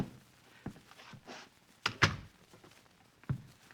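A door closes in an old-time radio mystery drama, a few soft thumps and a sharper latch-like knock, close and alone without talk.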